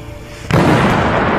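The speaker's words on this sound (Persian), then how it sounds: "چه صدای خفنه این بمب" A homemade firecracker bomb goes off with a sudden loud blast, a sharp boom followed by a sustained roaring, crackling burst that fills the rest of the moment, close and without speech.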